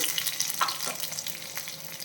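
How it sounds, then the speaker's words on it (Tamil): Curry leaves are sautéed in a pan for a bitter gourd dish, giving a steady close sizzle and frying crackle with light stirring scrapes and no voices. "கொஞ்சம் கருவேப்பிலி சேர்க்கலாம் சேர்த்து நல்லா வதக்கிடலாம்"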